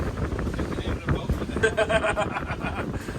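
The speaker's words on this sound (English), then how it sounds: "It's a little windy today." Gusty wind buffets the microphone with a low rumble on a boat run from Marco Island to Fort Myers, steady throughout, with a brief faint tonal sound partway through.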